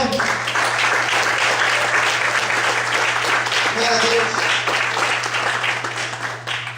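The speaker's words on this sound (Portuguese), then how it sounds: "Você pode aplaudir ao Senhor" A church congregation applauds loudly and continuously, a thick sustained clapping under a steady hum, while someone briefly speaks a short exclamation over it.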